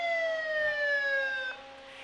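Wailing siren of a big fire department rescue truck passing in the Hibbing Jubilee Parade 2024, a sustained falling tone that cuts off abruptly near the end, moderately distant with no talk.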